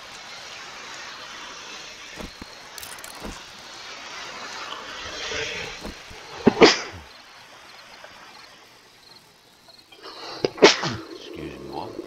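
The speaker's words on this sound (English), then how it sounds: "I'm sneezing away mad." A couple of sharp sneezes burst out during a game of 7 Days to Die, loud and abrupt against a quiet background, with a voice talking in between.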